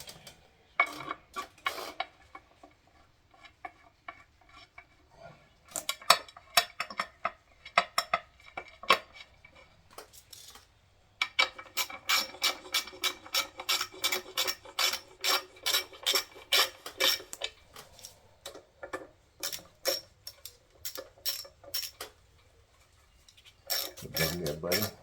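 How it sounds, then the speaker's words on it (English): Short ratchet wrench clicking as bolts are tightened on an LS 5.3 engine build, coming in bursts of rapid, close metallic ratcheting with pauses between, the longest run in the middle, alongside light handling of parts. "Probably should have got out my longer ratchet, but I have the shorties handy, so that's what I'll use for now."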